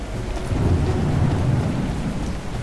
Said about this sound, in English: This is one hell of a storm.